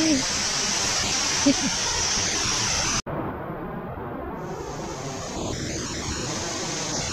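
A waterfall at La Palmera in Sultan Kudarat makes a steady broadband roar of rushing water that fills the whole clip, with one sharp break midway before the roar resumes.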